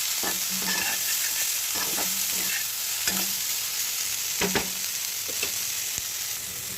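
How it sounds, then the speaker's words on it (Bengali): Cauliflower frying in a wok, a constant oily sizzle broken by several clattering stirs and scrapes of a spatula at irregular moments, close up with no talking. "এইভাবে ফুলকপিটাকে আমি ভালো করে ভেজে নেব"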